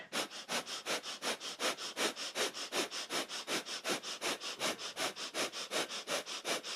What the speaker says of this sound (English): reaching up and grabbing the big toe or the back of the thigh, and a breath of fire here